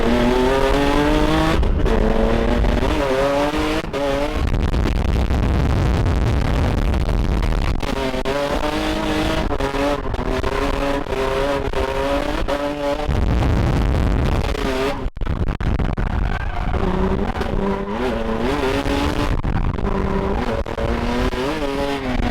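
A Formula Drift race car drifts hard, its engine revving high and rising and falling over and over. Loud tire squeal runs through, heard from inside the car.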